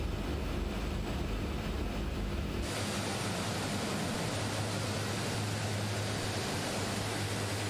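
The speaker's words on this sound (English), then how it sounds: "we're going to taxi towards runway 19, ready to departure over the beach." A steady broadband engine roar from a Twin Otter aircraft taxiing in a flight simulator, loud and unbroken, with a shift in tone partway through as the engine drone settles into a lower hum.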